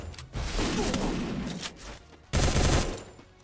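Gunfire from the Bison weapon in the Free Fire battle game, dense rapid bursts of shots filling the clip, with a short lull before another loud burst near the end.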